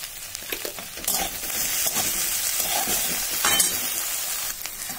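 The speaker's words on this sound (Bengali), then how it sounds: "ঢ্যাঁড়সটা দিয়েই দুবার নাড়া দিয়ে আমি দিয়ে দিচ্ছি হলুদ, কাঁচা লঙ্কা আর লবণটা আমি দিয়ে দিচ্ছি।" Sliced okra stir-fried with turmeric, green chili and salt sizzles steadily in the pan, with scraping stirs breaking through the continuous frying hiss, close and without voices.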